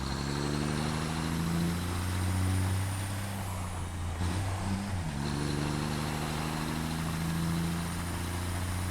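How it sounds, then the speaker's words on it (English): A strange vehicle's engine in the factory-building game Satisfactory drones steadily with layered low tones, briefly dipping and wavering mid-way before settling back into a constant hum, with no talking. "What a strange vehicle."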